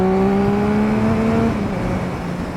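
A Triumph Speed Triple R motorcycle fitted with twin aero exhaust cans pulls hard, its engine note a loud, steady drone that climbs and then settles as it accelerates, with no talk over it.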